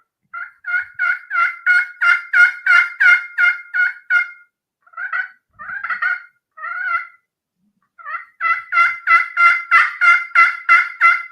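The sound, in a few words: turkey hunting call imitating turkey gobbles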